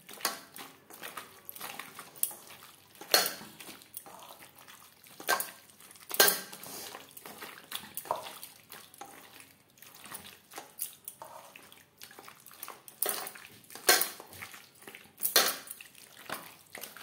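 Chicken is mixed with spices by hand in a bowl, giving irregular soft squelches and clinks of the bowl, with scattered bursts of wet rubbing and knocks at close range and no talking.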